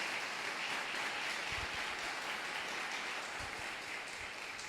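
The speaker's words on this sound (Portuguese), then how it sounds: "Vamos aplaudir o Senhor pela bênção?" A church congregation applauds during a worship service, a steady wash of many hands clapping at a distance, even in level and sustained throughout with no talk on top.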